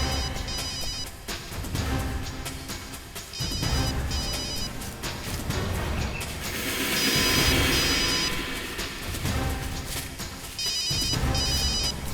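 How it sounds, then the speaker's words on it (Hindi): A mobile phone rings in repeated electronic trills over a busy, dramatic music bed, each ring pattern recurring at a steady interval with no talk. "दया का फोन बज रहा है।"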